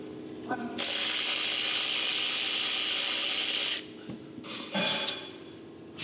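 Ratchet wrench spinning a 13 mm socket on a 2022 Jeep Compass during an oil change, a steady rapid clicking burst lasting about three seconds, then a couple of shorter ratchet strokes, close and clear.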